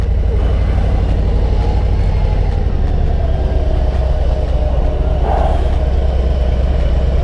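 Motorcycle engine rumble from a 2021 Harley-Davidson Low Rider S, steady and loud while lane splitting through dense New York City traffic, with surrounding car and truck engine noise throughout.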